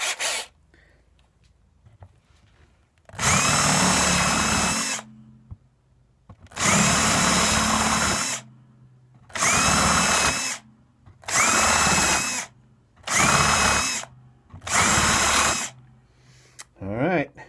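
Power drill boring tuner holes into a guitar headstock: six loud whirring bursts of roughly one to two seconds each, separated by short pauses, close to the microphone, with brief talk before the first burst.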